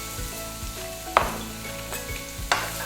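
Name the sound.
onion and carrot frying in oil in a pan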